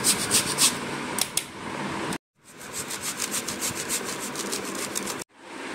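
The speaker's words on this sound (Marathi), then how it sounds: "हे इथं गूळ खिसायचं झालेलं आहे" Jaggery being grated for a sweet raw-mango pickle, producing a continuous rhythmic rasping scrape in close, steady strokes with one brief pause partway through.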